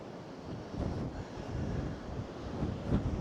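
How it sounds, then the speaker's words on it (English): Chilly wind on the Whitby seafront buffets the microphone in a steady low rumble with gusty swells and faint surf beneath. "it's getting a bit windier the further along I get here"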